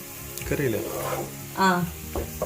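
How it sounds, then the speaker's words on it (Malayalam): Onions sauté in a pan for a green chicken curry, giving a low, steady sizzle beneath a person's close-up talking. "അപ്പൊ ഉള്ളി നല്ലോണം വഴണ്ടി വന്നിട്ടുണ്ട്"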